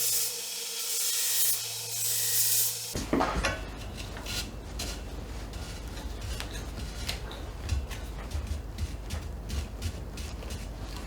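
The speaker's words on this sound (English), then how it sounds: "I'll probably sand this down." Someone sands a slot in the seat tube of a small mini town bicycle, first a loud continuous rotary grinding whine, then irregular close scraping and rubbing strokes on metal with light ticks.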